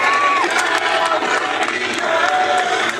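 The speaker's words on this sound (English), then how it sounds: "And going around this crowd." Crowd at a backyard wrestling show cheering and shouting loudly and steadily, with scattered whistles and yells over a constant roar.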